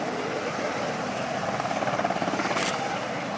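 Westland Sea King HAR.3A helicopter at an air show, a steady broadband rotor and turbine roar with a faint rhythmic blade chop building slightly midway, continuous and fairly distant.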